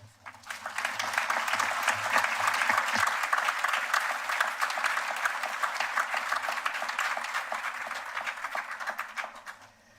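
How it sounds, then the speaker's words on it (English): A graduation crowd at Bermuda College applauds after a speech, with sustained full clapping that swells quickly, holds steady for several seconds, then tapers off. "Can we have another round of applause for Kristen White?"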